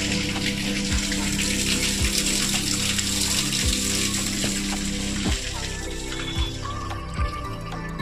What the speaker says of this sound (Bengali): যখন ইনলেট হবে এখানে জলটা আসবে